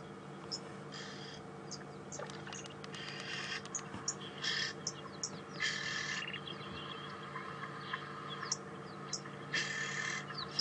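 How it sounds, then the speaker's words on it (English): Oxpecker calling on a safari drive at Djuma Game Reserve, short high-pitched hissing chirps repeated in bursts at a moderate distance over a low rumbling background. "a great bird to know, because they do have that relationship with a lot of animals where they let off this call"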